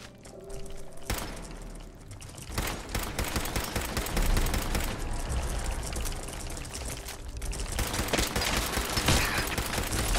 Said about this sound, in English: Yep, exterminator pipe rifle.